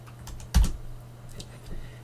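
Keys on a computer keyboard are struck a few times while a launch folder is opened for a ROS robot project, giving one louder clack near the start and a couple of softer taps later over a steady low hum.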